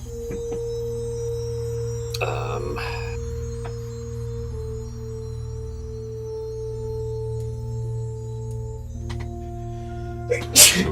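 A person sneezes loudly and abruptly near the end, a single sharp burst that stands out over steady game music and background hum, with a brief voice heard earlier.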